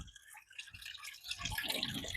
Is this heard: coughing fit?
no